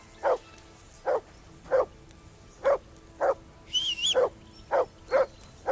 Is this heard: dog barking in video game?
yes